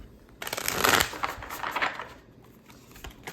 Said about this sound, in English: And then we're going to do one more shuffle.